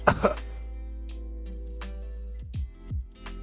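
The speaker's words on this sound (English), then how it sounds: "Let me clear my throat." A person clears their throat in a couple of quick, harsh rasps at the start, followed by quiet with faint clicks and small noises under a low steady hum.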